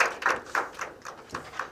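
A handful of sharp, separate hand claps for a speaker at a seminar, irregularly spaced and fairly faint in a room.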